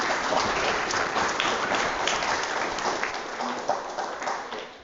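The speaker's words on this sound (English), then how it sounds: "Get the clapping out of the way early." Festival talk audience applauding as a speaker is welcomed, a thick, steady wash of many clapping hands that stays loud for several seconds and then begins to thin out toward the end.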